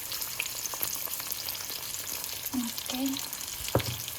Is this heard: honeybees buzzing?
no